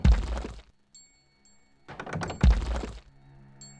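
Units batter and destroy a building in the video game Age of Empires II: The Conquerors. Loud, crunching impact bursts come first, then after a pause a closely spaced pair, with faint game ambience and soft tones in the gaps.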